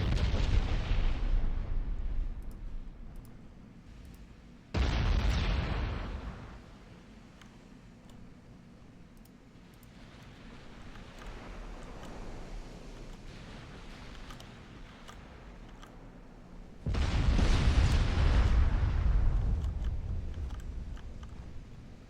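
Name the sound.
battleship gun salvos in the video game Ultimate Admiral: Dreadnoughts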